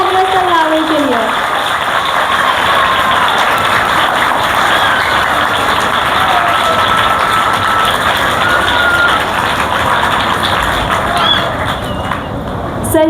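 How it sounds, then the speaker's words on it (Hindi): Dense, sustained applause fills a school Annual Result Day gathering as Sir Yavar is welcomed to the stage. The clapping stays loud and steady throughout, with voices carrying over it. "बहुत सारी तालियां सर यावर के लिए।"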